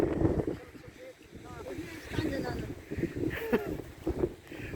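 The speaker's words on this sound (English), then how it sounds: "It is fairly windy." Wind rumbles and buffets against the microphone in low gusts at a campsite while a person speaks briefly over it.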